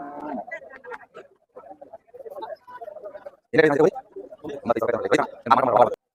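Cattle and bulls at the weekly Thursday bull market in Hosadurga let out several loud moos in the second half, mixed with nearby conversation.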